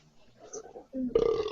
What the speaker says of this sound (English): Obligatory burp.